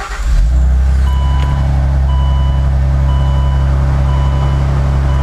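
A Saab 9-3 Turbo X engine starts after sitting all day, catching quickly and settling into a loud, steady, deep idle. Faint, evenly spaced chime tones sound above the engine.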